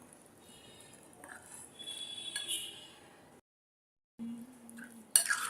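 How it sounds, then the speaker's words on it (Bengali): A utensil stirring ginger-garlic paste with soybean oil in a bowl, giving soft, faint scraping and clinking sounds with a short silent gap, then a brighter clink near the end. "সব একসাথে মিশিয়ে নেব।"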